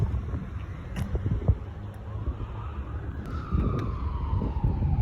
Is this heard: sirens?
yes